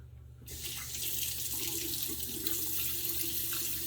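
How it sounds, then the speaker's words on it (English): A tap is switched on and cold water runs steadily into a sink to rinse after a razor shave, a continuous close hiss and splash with no voices. "I'm gonna do a quick cold water rinse"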